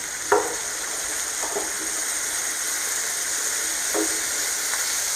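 Sandwich bread toasts in a pan over a normal flame, giving a steady soft sizzle with a few faint clicks and scrapes, quiet and close with no talking.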